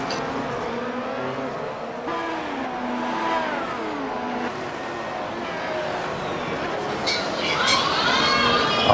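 A 2016 Formula 1 car races on the Indy road course in iRacing, its high engine note steadily sweeping up and down through the gears under continuous commentary, with a brief sharper burst near the end.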